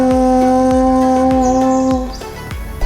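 A French horn holds a long, mellow note over a steady, rhythmic plucked accompaniment. It plays alone, with no voices.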